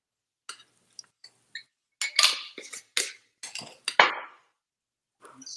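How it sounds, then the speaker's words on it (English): Minced garlic and coarse kosher salt stirred in a pan, heard as scattered metallic clinks and scrapes of a utensil against cookware, irregular and close, with quiet gaps between bursts. "Stir it around just a little bit."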